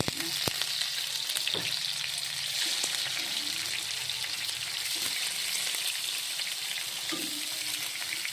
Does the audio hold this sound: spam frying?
yes